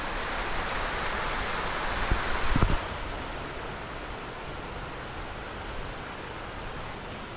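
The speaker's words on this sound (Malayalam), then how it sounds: "നമുക്ക് മഴ മഴയത്ത് വീണ്ടും കാസ്റ്റിംഗ് ചെയ്യണം അതേ മഴയാണ്" Steady rain falling outdoors during a fishing outing, an even wash of dense, moderately loud patter with a brief clatter near the middle, then continuing unbroken.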